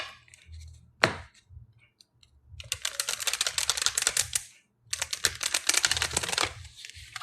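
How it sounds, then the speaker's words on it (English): A deck of tarot cards is shuffled up close, producing two long bursts of rapid, crisp clattering flicks separated by a short pause, after a single sharp tap and some faint handling noises. "now I'm going to shuffle up my other deck."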